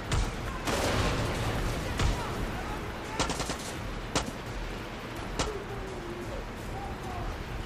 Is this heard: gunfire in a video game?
yes